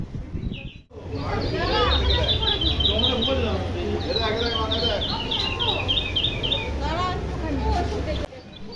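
Recorded bird calls played through speakers inside a Jagadhatri puja pandal in Chandannagar, a dense chorus of repeated chirps and whistled trills over crowd murmur and voices, loud and continuous after a brief quiet start.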